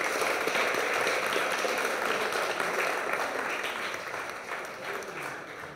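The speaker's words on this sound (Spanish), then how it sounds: "Un aplauso a los cuatro, pero sobre todo un aplauso a la Fundación" A crowd applauds after thanks to a foundation at a talk, a dense, steady wash of many hands clapping at close range that fades slightly toward the end, with no voices over it.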